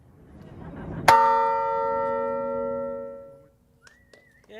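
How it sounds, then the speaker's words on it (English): A single clear strike of the Tarrytown Lighthouse bell at Kingsland Point Park in Sleepy Hollow rings out and decays over a few seconds, with faint crowd murmur before it and small noises as it fades. "ring the bell to get us started"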